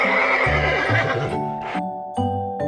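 A horse whinnies loudly and close by, a single long neigh with a shaky, wavering pitch that runs through the whole moment, then breaks off into a few shorter snorting bursts at the end. No one speaks over it.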